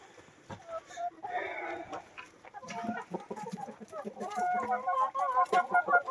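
Chickens let out to graze on green grass after several days of rain cluck and chatter nearby, with irregular calls building to a busier flock chorus, a few voices mixed in.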